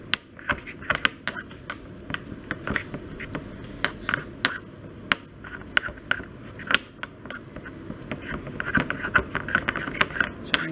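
Spinach leaves are ground with acetone in a mortar, giving repeated sharp scraping and clicking strokes of pestle on ceramic, close and irregular, with no talk over them.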